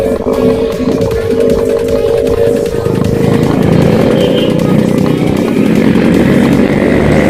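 A Yamaha RX-King two-stroke motorcycle engine revs loudly and steadily nearby, with a continuous raspy buzzing drone that swells slightly toward the end, no talk over it.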